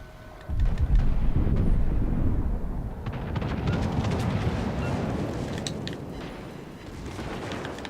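Heavy naval gunfire in World of Warships: Legends, with a sudden loud boom that rolls into a sustained low rumble and lingers under the battle noise for several seconds.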